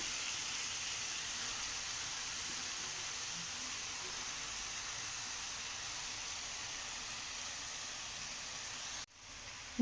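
Steady, even sizzling hiss of chopped spinach frying in a hot pan, continuous and close, with a brief clatter right at the end.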